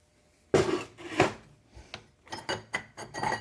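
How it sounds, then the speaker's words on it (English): A stock metal pressure plate for a Mopar A727 forward clutch drops into place with two sharp metallic clunks, followed by a few lighter clinks and rattles, all close by. "Now this is the stock pressure plate. Drop it down."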